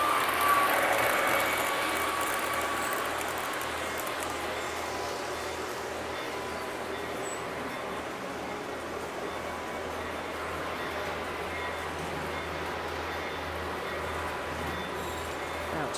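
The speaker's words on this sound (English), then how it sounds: "Coming under the bridge. Comes the Amtrak." A model Amtrak train runs beneath a bridge on a rural-themed layout, giving a steady, faint rolling rumble that holds evenly throughout with no talking.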